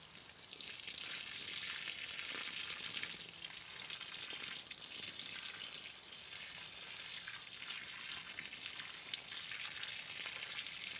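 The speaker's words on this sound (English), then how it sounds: "just gonna go water the garden" Water running from a hose onto dry, dusty garden soil around newly transplanted lilacs in a perennial bed, a steady soft hiss and patter that continues evenly at low level with no talk.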